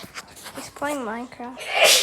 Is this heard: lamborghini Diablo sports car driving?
no